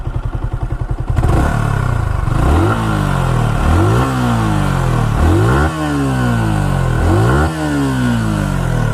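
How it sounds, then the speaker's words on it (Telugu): A used Yamaha R15 motorcycle engine idles at a second-hand bike dealer with a rapid, even putter, then is blipped through a series of loud, close revs that rise and fall repeatedly. "ఇది ఇంజన్ సౌండ్"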